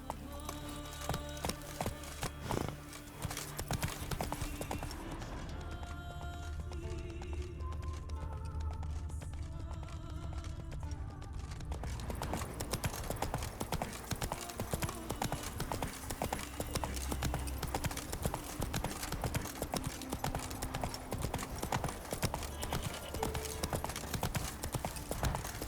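Hooves of the horse Roach gallop in the Witcher 3 game world, a fast, continuous clip-clop rhythm running close and steady beneath layered game music and ambience.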